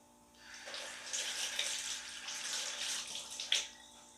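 A lemon is rinsed under a running kitchen tap, with a steady, close splash of flowing water that lasts the whole stretch and swells slightly near the end, with no talking.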